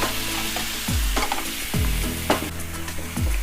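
Chicken and liver curry masala paste sizzles in a pan while a utensil stirs, with several scraping sweeps recurring roughly every second over the frying hiss.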